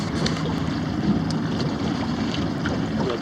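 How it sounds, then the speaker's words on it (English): Boats trolling for fish on a lake give a steady low motor rumble mixed with wind buffeting the microphone and faint water noise, close and constant. "all kind of boats out here today"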